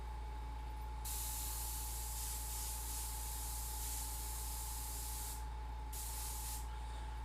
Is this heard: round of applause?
no